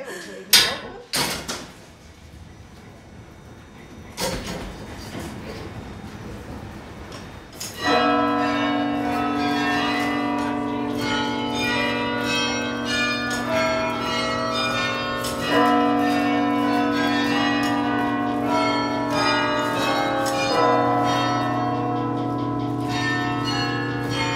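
Carillon bells ringing in a church tower, the bells struck by large hammers, sounding a sustained melodic peal with overlapping tones that swells loud and continuous after several seconds of quieter knocks and faint talk.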